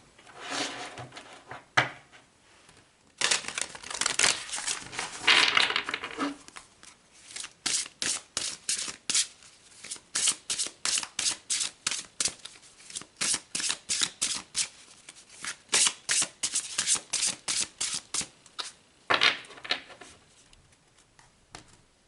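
Tarot cards shuffled by hand in a long run of crisp riffling bursts, first ragged and then a steady, rapid series of riffles and bridges close up, with brief pauses, no talking.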